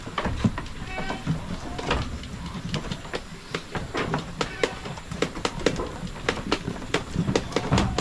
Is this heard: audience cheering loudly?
no